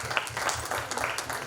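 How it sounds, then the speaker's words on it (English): Audience at a literature festival claps in a brief, fairly faint burst of applause, steady and uneven, with a low hum underneath. "I think we must let them initiate with a thunderous round of applause."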